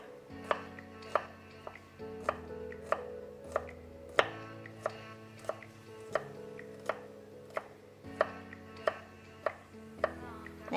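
Garlic cloves finely chopped with a knife on a board, a steady series of crisp, close, evenly spaced knife taps continuing throughout without talk.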